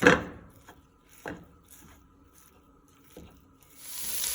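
Sausage cooking in a pan with no oil is broken up by a utensil, giving a few separate soft scraping, squishy strokes spaced out against quiet background, ending in a louder rising sizzle.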